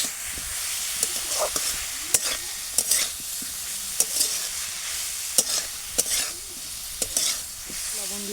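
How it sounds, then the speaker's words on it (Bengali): Kohlrabi curry with chili powder stirred in a pan, a constant close sizzle broken by sharp scraping strokes of a spoon at a steady rhythm, with no talk. "দিয়ে এটাকে একটু ভালোভাবে আমি নাড়িয়ে নেব।"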